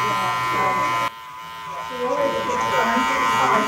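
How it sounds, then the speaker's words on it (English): Electric hair clipper with a 1.5 guard cutting a short crop fade on a woman's head, a steady buzzing hum that drops briefly then returns under soft handling noises. "the angle of where you pull off with the clipper"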